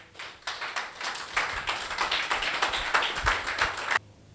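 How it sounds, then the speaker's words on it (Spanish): A church congregation claps together, a run of sharp, fairly close claps that keeps going for several seconds and then stops abruptly. "Aplauso al Señor."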